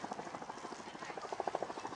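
An RAF Chinook twin-rotor helicopter flies at an air display, its rotor blades chopping in a steady rapid pulse that carries faintly from a distance and fills the whole stretch.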